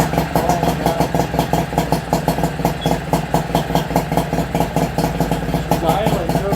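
A Nissan 5 hp two-stroke outboard motor idles with a fast, even, chugging beat and a raspy buzz, close and steady throughout, with no talk over it.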